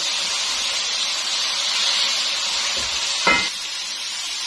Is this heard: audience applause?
no